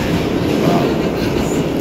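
A New York City subway train pulls out of a station, a loud steady rumble with rattling cars and clatter heard from on board.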